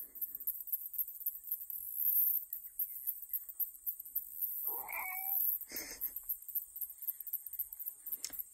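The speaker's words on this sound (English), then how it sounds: "There's the cat." A cat gives a single short meow midway through, fairly close, against a steady high-pitched background hiss with faint ticking; no one talks.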